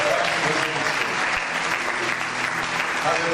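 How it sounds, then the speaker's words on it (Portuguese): A church congregation breaks into loud, sustained applause during a Sunday evening service, dense clapping filling the room evenly from start to finish. "Você pode dar um aplauso grande?"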